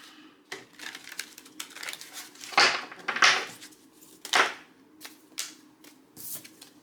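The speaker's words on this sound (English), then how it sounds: "Okay, one shuffle like this." Tarot cards are shuffled close by in a quick, irregular run of papery riffles and snaps, with a few louder bursts as the deck is cut and squared.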